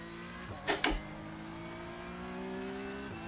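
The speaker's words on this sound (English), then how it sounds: "This car sounds amazing." A V8 Supercar engine drones steadily in the iRacing sim racing game on the Adelaide street circuit, with a sustained tonal hum, two sharp bursts early on and another near the end, all moderately loud without talk.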